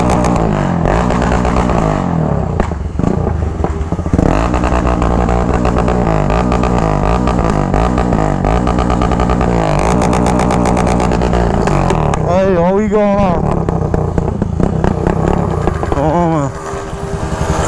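A motorcycle fitted with a truck exhaust revs loudly and repeatedly, its engine note rising and falling in close bursts, while people talk over it.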